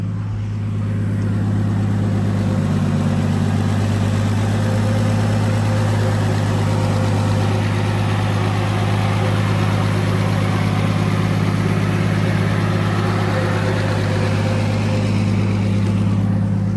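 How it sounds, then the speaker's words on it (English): A car engine idles steadily and fairly loud, a constant low rumble with no talking. "I'll show you a quick rundown of the engine bay while it's running"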